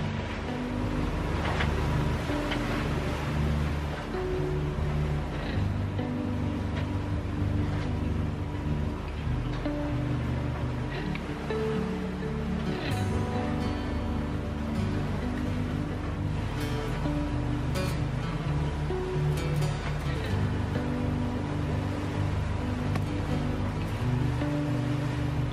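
A sailboat motors across open sea on passage toward Panama, its engine a steady low drone blended with continuous wash of waves and water rushing along the hull, loud and unbroken throughout.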